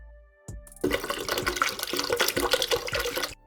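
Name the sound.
pouring 1 liter of water into blender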